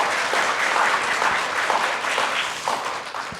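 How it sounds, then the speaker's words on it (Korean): Sustained applause from an audience at a science and technology leaders' forum, honoring panel discussion participants; dense, steady clapping that fills the room and tapers slightly at the end. "패널 토론에 참여해주신 여러분께 다시 한번 큰 박수 부탁드립니다"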